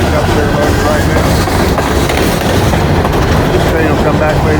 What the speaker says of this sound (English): This train will come back later this afternoon with a loaded string of cars.